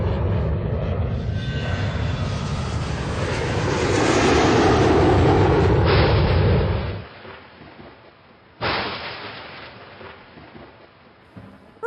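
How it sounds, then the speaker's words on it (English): Aircraft engines roar loudly and continuously, swelling to a peak before cutting off abruptly, followed by a quieter rumble and a second sharp burst near the end. "The sound of aircraft engines and lightning can measure up to 180 decibels."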